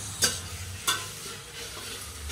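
Puffed rice being tempered in a hot pan gives a steady low sizzle and crackle, with three sharp scraping stir strokes spaced about a second apart, close and fairly loud.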